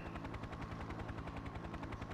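Helicopter in the video game Return Fire, a steady rapid rotor thump with engine drone, looping evenly and loud throughout with no talking.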